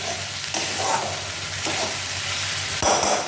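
Spices sautéing in a pan for a Bengali egg curry, giving a steady sizzle broken by a few louder scraping stirs, with no one talking.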